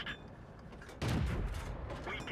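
Tank gun fire from a Pz38nA in World of Tanks on Prokhorovka, with a single heavy boom partway through followed by a rumbling tail, amid faint battle noise.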